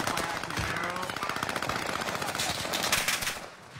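Gunfire in a Call of Duty match rattles in fast automatic bursts, dense and loud, with overlapping shots for several seconds before tapering off.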